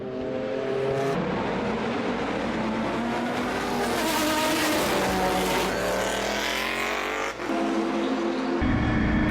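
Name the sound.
endurance race cars at Spa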